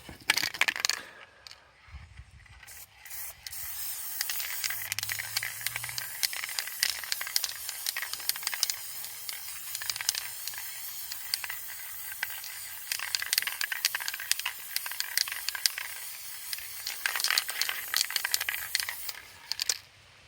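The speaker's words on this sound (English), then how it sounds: "let's see how that gets turns out when I spray paint it" A steady, loud hiss of aerosol spray paint runs almost continuously over a homemade stencil, with short pauses and a few rattling bursts, outdoors with some wind.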